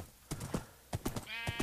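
Horse hooves clip-clop in Minecraft as the player rides: a quick run of faint, light clops in uneven pairs, with a brief rising tone near the end.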